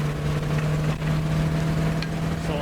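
A 1992 Chevrolet P30 motorhome's TBI 454 V8 running steadily with a low, even drone and faint road noise, heard from inside without anyone speaking.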